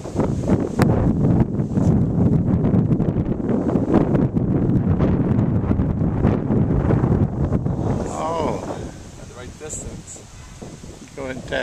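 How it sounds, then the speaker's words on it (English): Strong wind buffets the microphone on a golf course during a junior tournament, a loud, steady low roar that fills the whole clip and eases near the end, with faint distant voices beneath. "Strong wind."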